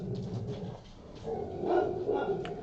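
Dogs barking and whimpering indoors, muffled repeated barks and yelps at moderate volume over a low background murmur.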